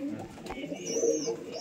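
A pigeon coos nearby, giving a soft, low, rolling call.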